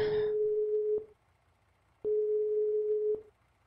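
A telephone call tone in Farming Simulator 19 sounds as two long steady beeps, each about a second, separated by a pause, clean and close with no talk.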